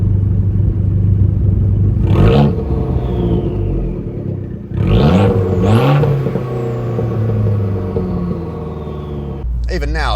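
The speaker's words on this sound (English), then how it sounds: "I'm listening to this Monza exhaust, and there's something really nice about hearing the burbles and the pops and crackles come through" An Abarth 595 Competizione's Monza exhaust in sport mode burbles steadily under a continuous engine rumble, with a few sharp pops and crackles breaking through as the car cruises. A person talks over it throughout.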